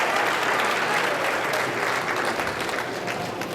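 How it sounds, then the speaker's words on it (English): Applause for students at a fifth grade graduation ceremony, a full audience clapping steadily and loudly, tapering slightly toward the end. "let's give all these students a round of applause"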